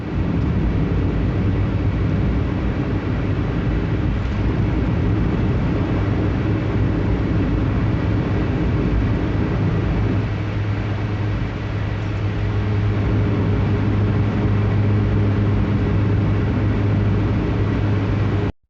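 Steady broadband road rumble from inside a moving car, a continuous low drone with tyre hiss that holds evenly throughout, no voices.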